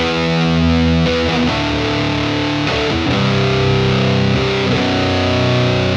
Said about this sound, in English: It's a pretty gnarly distortion pedal